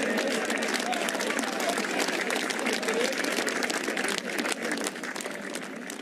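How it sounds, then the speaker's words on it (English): A large gallery at The Open Championship golf tournament applauds steadily, a dense wash of clapping from many hands that thins slightly toward the end, heard at a distance. "the huge crowd here today are having their money's worth"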